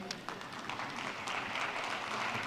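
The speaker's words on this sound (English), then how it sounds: "as they clap for you" Audience applause at a gender equality seal certification awarding ceremony, a dense, steady patter of many hands clapping throughout, moderately loud and even.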